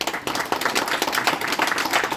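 Audience applause at a ceremony installing a governing board, dense steady clapping from many hands throughout, moderately loud and without talk.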